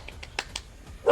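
A dog being chased outdoors on a dark night gives a few short, fairly faint barks in quick succession, followed by a louder burst of noise at the end.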